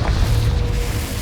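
A Confringo fire spell from Hogwarts Legacy, played on PS5, erupts as a loud, deep boom with a dense low rumble that holds steady for just over a second.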